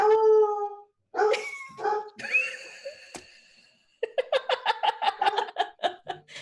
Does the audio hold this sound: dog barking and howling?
yes